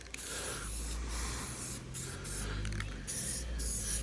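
Spray gun laying the first light coats of a new colour on a beater car, a steady close hiss of atomised paint running nearly unbroken with a few brief gaps.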